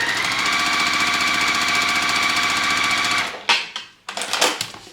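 A sewing machine stitches quilt pieces for corner nine-patch blocks in Corey Yoder Coriander fabrics, a loud, fast, even whir for about three seconds before stopping, followed by a few clattering handling sounds.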